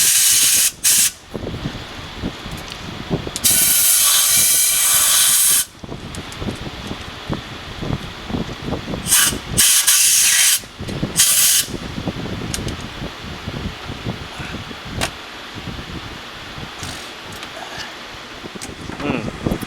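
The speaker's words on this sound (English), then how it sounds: "You want to come in here with some compressed air and shoot it in that hole." Compressed air blasts into the EGR port of a 1999 Ford Escort with a loud, broad hiss in two or three sustained bursts, while someone talks over the steady rustle of the work.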